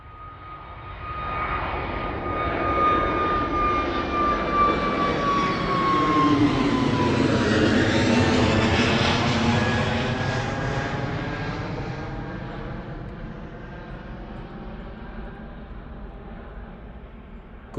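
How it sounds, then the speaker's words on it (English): An Airbus A320neo jet takes off at Bristol Airport, bound for Amsterdam, its engine roar swelling loud and broad, peaking as it passes overhead, then slowly fading into the distance with a falling whine. "Early rotation for the 320neo heading out to Amsterdam this morning."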